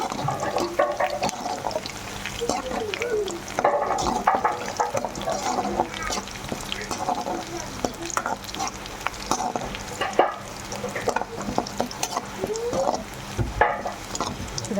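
Vegetables with curry leaves fry in a pan for capsicum rice, a continuous busy sizzle with stirring scrapes and clatters that stays close and fairly loud throughout.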